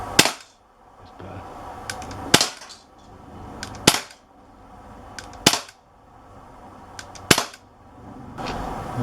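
Sharp shots from an Umarex Walther PPQ .177 CO2 pellet pistol ring out one at a time, six loud cracks spaced about a second and a half apart, each with a short decaying tail, with no talking.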